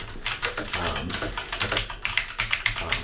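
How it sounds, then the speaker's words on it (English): Rapid, loud clacking of a budget JOKERET mechanical gaming keyboard's keys, irregular bursts of keystrokes close to the mic, continuous throughout with no talking. "it is going to be loud just by randomly typing on it."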